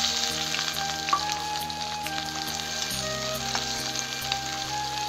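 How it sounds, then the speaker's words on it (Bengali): A spice paste for mutton curry sizzles and fries in hot oil in a wok, with bay leaf and cumin in the pan, giving a steady, loud, close crackle throughout with no talk. "পেস্টটা ভালো করে ভেজে নেবো লাল লাল করে।"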